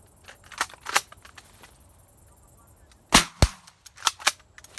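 Shotgun blasts ring out during an outdoor dove hunt, a few sharp loud reports spaced apart, with lighter clicks and handling sounds between them.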